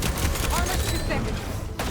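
Machine gun fire from a hostile machine in the game Horizon Forbidden West, a dense, continuous rattle of rapid shots lasting the whole moment, loud and close, with combat noise layered around it and a brief dip near the end.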